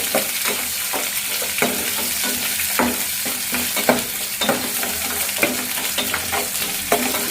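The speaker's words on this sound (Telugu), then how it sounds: "ఈ ఎర్రగడ్డలు ముందుగా తీసుకున్న కడిగి పెట్టుకున్న ఎర్రగడ్డని వేసేసి బాగా ఫ్రై చేయండి" Onions frying in a pan with lentils for a broad bean stir-fry, a steady close sizzle broken by repeated scraping stirs of the spatula at an irregular rhythm, with no voices.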